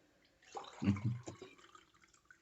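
Water poured into a glass gives a short, soft trickle and splash lasting about a second, quiet and close, with no talk.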